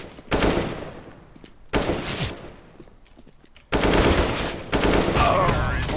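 Bursts of rapid automatic gunfire in CS:GO, three sharp separate volleys with short gaps between them, loud and close, with faint shouting from a player mixed in.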